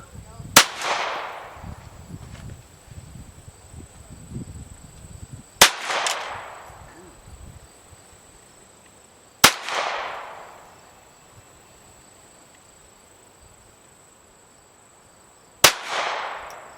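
Four sharp, loud reports from a Browning Buck Mark .22LR pistol fired outdoors with iron sights, spaced several seconds apart, each with a ringing decay and faint background noise between shots.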